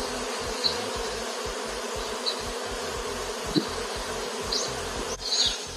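A honeybee swarm moving into a hive in a garden, giving a steady, dense buzzing hum with individual bees zipping close past now and then.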